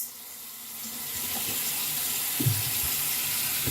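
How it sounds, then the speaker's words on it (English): A tap runs steadily into a sink as someone rinses off after a wet shave, a close, continuous water rush with a few faint splashes. "Let me get rinsed off."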